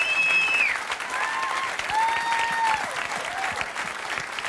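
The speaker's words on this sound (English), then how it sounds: "A round of applause for Martin, everyone!" Audience applause at a cabaret magic show fills the room, steady dense clapping from a crowd throughout, with faint whistle-like tones threading through it.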